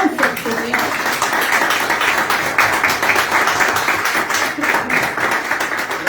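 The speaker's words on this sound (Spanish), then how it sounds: "Dale un fuerte aplauso al Señor." Congregation applause fills a church service after a call to praise, a steady broadband wash of many hands clapping throughout, loud and continuous without a break.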